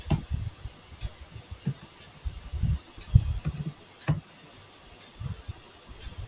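Someone types a command on a computer keyboard, tapping out a run of crisp, close keystroke clicks in uneven bursts with short pauses between them. The background is quiet.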